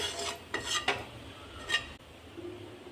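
A spoon scrapes and clinks against a pan while egg fry masala is mixed with turmeric and salt, giving a few close metallic scrapes and taps in a quiet kitchen.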